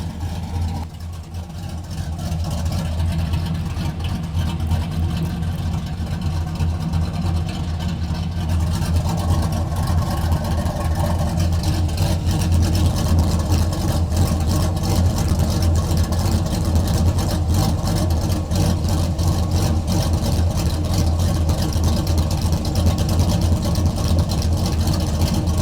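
A cammed 5.3L V8 with FlowMaster Pro Outlaw mufflers rumbles through a deep, choppy idle that builds into a louder, steady exhaust drone, close and continuous throughout.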